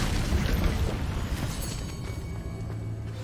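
The Incendio fire spell is cast in Hogwarts Legacy, a loud whooshing fiery burst that fills the moment and then fades into a softer crackle.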